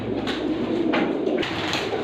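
A large grey pigeon coos in a low, continuous throaty murmur close by, partly masked by steady broadband background noise, with no voices.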